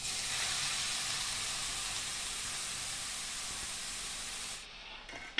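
Grated carrot hits hot ghee in a pan over medium heat for carrot halwa, giving a loud, steady sizzling hiss that holds evenly for several seconds and then cuts off abruptly.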